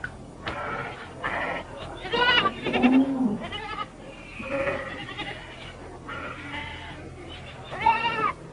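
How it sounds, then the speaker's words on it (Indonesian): Goats bleat repeatedly in a farmyard in old Betawi Jakarta, several wavering calls near and fairly loud, mixed with people talking over them. "Kambingnya banyak bener."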